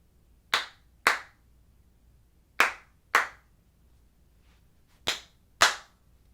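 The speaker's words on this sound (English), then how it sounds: "that's why I do all the clapping, so you can see peaks and spikes in your signal" Six sharp hand claps, spaced in pairs with pauses between, are made to create sync spikes for lining up recordings. Each crack is crisp and close against a quiet room.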